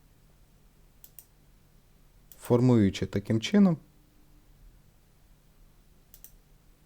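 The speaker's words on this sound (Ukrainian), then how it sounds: "Потім ведемо мишу донизу, клацаємо тут, потім тут тут," Computer mouse clicks while drawing in a vector graphics editor: a quick double click near the start and another near the end, both crisp and close, with a person talking in between.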